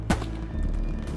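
A single sharp Nagant revolver shot in the World War II shooter Hell Let Loose, fired from a distance of about 100 yards, followed by a short fading tail over low ambient battlefield hum.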